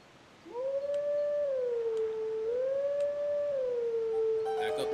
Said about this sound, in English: maybe you can sit there and howl the same song